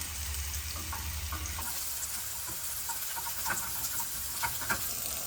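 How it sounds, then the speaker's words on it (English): Eggs sizzling in butter in a pan while cooking a breakfast burrito, a steady close crackling fry with occasional sharper pops and faint stirring clinks. "All right, got my eggs going here."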